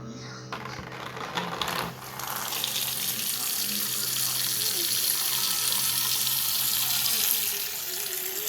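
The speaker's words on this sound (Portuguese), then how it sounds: "olha essa torneira e eu vou ligar" A tap is turned on and water runs steadily into a sink, a loud continuous hiss and splash that carries on alone after a brief bit of handling at the start.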